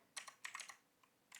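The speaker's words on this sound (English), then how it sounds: "you're going to type your password in" Keys on a computer keyboard tapped while entering a password, a short burst of about nine quiet clicks in quick irregular bursts, close and alone with no voices.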